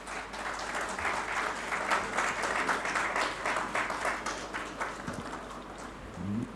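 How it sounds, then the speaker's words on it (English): A round of applause at a Rotary event honoring a speaker, a moderate, somewhat distant patter of clapping from a small crowd that thins toward the end. "a huge round of applause for C."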